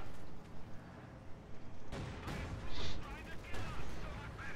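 German tank cannon fire and shell impacts ring out in Company of Heroes 2 as an IS-2 tank is hit; after a quieter lead-in, several sharp blasts and crackling bursts follow in quick succession, with narration faintly underneath.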